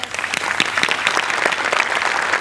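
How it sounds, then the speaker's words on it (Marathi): Enthusiastic studio audience applause at a Marathi comedy show, a dense, steady burst of many hands clapping together, loud and close throughout. "त्यामुळे तिच्यासाठी एकदा जोरदार टाळ्या"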